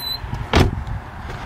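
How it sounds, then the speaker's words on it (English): A squeaky door on a 2000 Audi B5 S4 swings with one short, loud creak near the middle, standing clearly above quiet surroundings with no talking. "squeaky doors on these Volkswagen Audi products"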